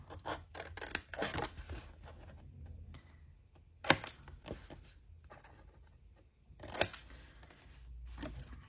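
Scissors trim paper for a lidless box in irregular bursts of crisp snipping and rustling, close and fairly quiet, with gaps between cuts and no talking.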